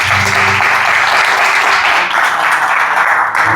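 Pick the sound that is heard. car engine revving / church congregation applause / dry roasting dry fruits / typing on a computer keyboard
church congregation applause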